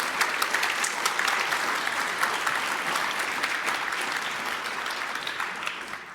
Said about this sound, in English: Please give a warm round of applause for them for the talk.